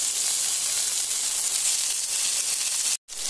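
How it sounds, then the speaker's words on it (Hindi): Green chilies shallow fry in oil over tempered cumin and mustard seeds, a loud continuous close sizzle that drops out briefly near the end before resuming. "देख सकते हैं कितनी बढ़िया अपनी सेलो फ्राई हो रही है मिर्ची"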